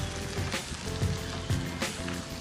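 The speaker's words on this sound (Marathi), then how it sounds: "कोथिंबीर आणि ही अंडी घालून घेणार आहोत आणि आपण हे छान परतून घेणार आहोत" Eggs and coriander sizzle in a hot pan for egg masala, a loud continuous crackle with soft stirring bursts recurring every half second or so, close up and with no voices.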